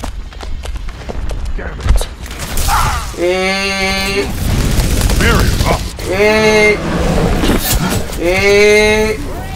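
Rapid bursts of explosions and gunfire from a rocket barrage in the video game Overwatch, with loud shouting and excited talk between the blasts.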